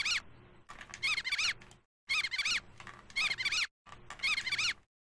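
Sugar bugs from the Berenstain Bears video game on Philips CD-i let out shrill, squeaky cartoon screams in three loud bursts separated by short silences.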